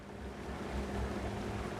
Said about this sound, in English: there's a lot of waterfalls happening